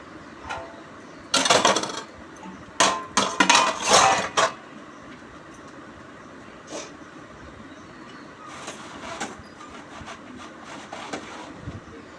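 Dishes being washed in a home kitchen: clattering bursts of plates, pots and cutlery knocking together, loud clusters early then scattered lighter clinks over a quiet background.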